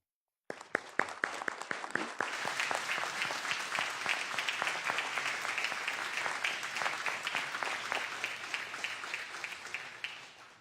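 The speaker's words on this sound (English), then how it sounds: "take a moment to recognize these veterans with a round of applause" A legislative chamber applauds Vietnam War veterans: a few sharp individual claps start it, then a full round of clapping builds and carries on steadily, with distinct nearby hand claps standing out over the room.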